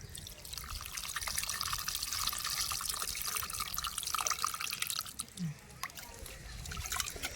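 Dissolved tamarind water pours into a fish curry, a steady close liquid splash and trickle running continuously at moderate level, with no talking.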